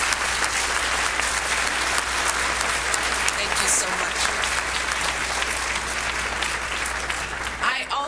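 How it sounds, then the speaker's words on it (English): A large audience gives sustained, dense applause for two honorees at a formal event. A speaker briefly says a few words under the clapping near the end. "So please, let's give both of these individuals a round of applause."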